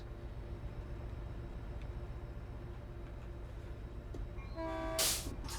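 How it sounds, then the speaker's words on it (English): A Caltrain F40 locomotive in the Train Sim World game rumbles along steadily, then its horn sounds near the end in one bright, loud blast over the low rail noise. "I think this is a Caltrain F40 actually, because of the horn."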